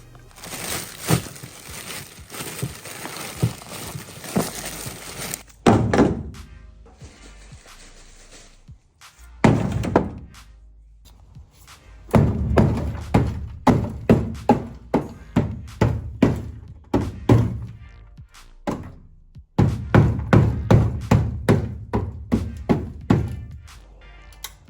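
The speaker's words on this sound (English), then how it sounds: "That cracking is a sound deadener unbonding" Mazda RX-7 FD sound deadener cracking and popping off the floor after being frozen with dry ice and struck with a hammer: sharp repeated thuds and crunching cracks in irregular bursts, loud and close.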